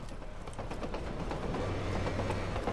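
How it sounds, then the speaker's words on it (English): A train rolls past in Borderlands 2, a steady rumbling clatter with a low sustained drone and faint rhythmic clanks, holding at an even level throughout with no voices. "Oh, there's the train."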